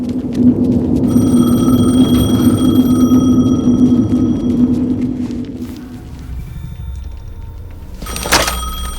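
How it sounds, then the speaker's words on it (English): In the video game Alan Wake 2, a telephone rings with sustained electronic tones over a low ambient rumble. The ringing fades after several seconds, and a brief sharp burst follows near the end. "The phone again."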